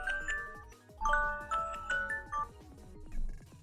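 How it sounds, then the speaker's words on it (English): Phone alarm ringing close by, a bright repeating electronic melody of quick chiming notes in a steady looping pattern, fairly clear with nothing else over it. "Oh, that's my alarm on the phone that I'm using as a camera."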